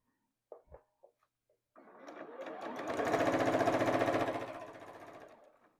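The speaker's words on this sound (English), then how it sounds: "And I'm just going to sew 1/4 inch away" Sewing machine stitching quilt pieces a quarter inch from the edge for a maple leaf table topper: a few small clicks, then a steady rapid whirring run that swells and fades out.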